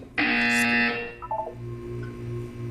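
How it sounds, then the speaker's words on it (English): A harsh, loud electronic buzzer blares for about a second in the Portal 2 video game, then a short series of quieter beeping tones and a low hum follow. "When you hear the buzzer, look up at the ceiling."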